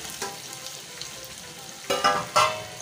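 Sliced onion sautés in a pan for a spicy pickled-style fish dish, with a soft steady sizzle broken by a few louder stirring scrapes near the end.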